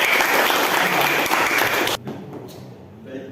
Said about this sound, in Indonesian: Tepuk tangan untuk Pak Bayu.